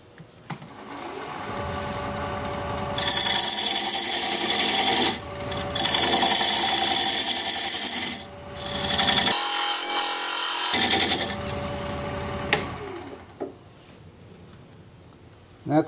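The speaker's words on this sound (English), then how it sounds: "we'll use this diamond point tool to square up the sides of the tenon" A thin diamond point tool cuts a weeping birch tenon on a wood lathe, giving a loud, close, steady scraping hiss in long passes, broken by short pauses and the motor's hum between cuts.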